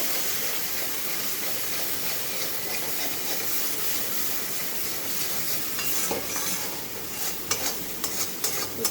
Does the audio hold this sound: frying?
yes